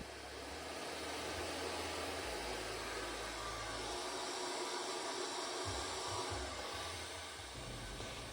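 A hair dryer blows steadily and loudly throughout a salon-style blow-dry at home, with a brush worked through the hair; airflow roar stays constant while low rumble shifts as the dryer moves.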